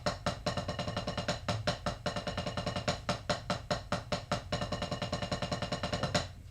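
Drumsticks play fast, even single strokes using German grip finger technique, a steady close-up stream of crisp hits with no talking.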